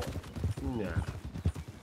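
A Hungarian half-bred horse in the Red Dead Redemption 2 roleplay world clip-clops along in a quick, regular hoof rhythm, faint and mostly under a person talking.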